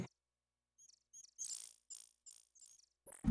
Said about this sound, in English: they sound like birds made of electronics